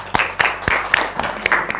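A small classroom group gives a presenter a quick round of clapping, several distinct sharp claps ringing out unevenly and close by for a couple of seconds.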